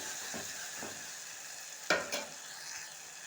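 A spoon stirs softened tomato curry in a pan, giving a few soft scrapes over a faint sizzle, then one sharp clink against the pan and a second lighter knock.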